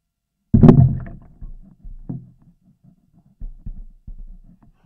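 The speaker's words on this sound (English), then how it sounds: "And the sound from the hydrophone." Underwater recording from a DIY hydrophone: a sharp loud knock, then scattered softer dull thumps and bumps with quiet gaps between them.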